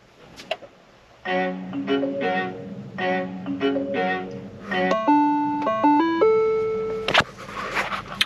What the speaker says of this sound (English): You'll see the dash go through a number of cycles, get a number of chimes.